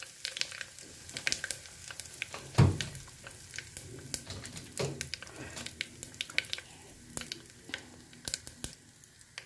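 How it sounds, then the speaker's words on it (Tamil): Mustard and fenugreek seeds spluttering in hot oil for sambar tempering, a close, quiet crackle of scattered pops and sizzling, with a few louder bursts among the steady patter. "இது கொஞ்சம் கடுகு பொரியட்டும்"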